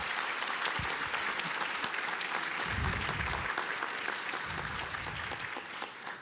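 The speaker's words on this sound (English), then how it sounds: "So can you guys give them all a round of applause?" A banquet crowd at a medical school awards dinner claps together in a sustained round of applause, fairly even and moderately loud, with some low rumbling bumps from movement nearby and a gentle taper toward the end.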